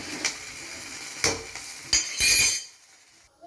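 Green chillies frying in oil in a pan for chutney, a soft sizzle broken by several sharp clinks and scrapes of a utensil against the pan, then fading near the end, with no talking.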